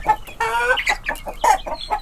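Chickens cluck loudly up close in a coop, with a series of sharp, choppy calls and one drawn-out squawk, and no voices over them.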